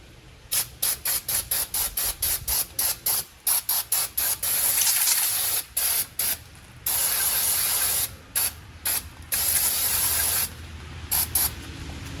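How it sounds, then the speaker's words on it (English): Repeated bursts of brake cleaner aerosol spray hiss on car brake parts, short rhythmic squirts alternating with a few longer continuous blasts, close and loud. "begin spraying and cleaning all the brake dust and grime off those parts"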